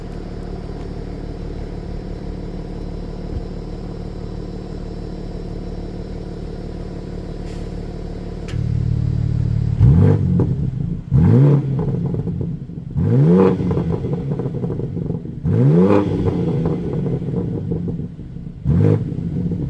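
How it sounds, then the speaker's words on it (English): A 2026 BMW M4 Competition idles in Sport Plus, then is revved four times in short, sharp bursts, each swelling loud and falling back to a rumbling idle. "I'll put it into Sport Plus and we'll get a couple of revs"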